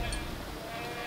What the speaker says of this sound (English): A lot of goats about.